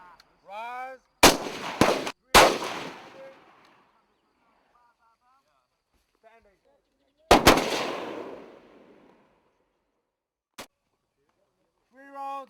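FAMAS rifle gunfire on a military firing range: sharp, loud bursts of shots in short clusters with echoing decay, separated by quiet gaps and a single later shot, with commands shouted between volleys.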